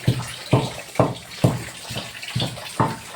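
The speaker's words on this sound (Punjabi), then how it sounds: "ਚੋਈ ਜਾਂਦੀ ਸਾਰੀ ਛੱਤ" Rainwater leaking through a house roof drips and splashes in a steady, repeating rhythm, about every half second, close by, with a constant wet patter of rain underneath.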